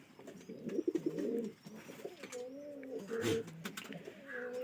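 Pigeons cooing nearby, several low throaty coos and burbles overlapping, with faint background noise.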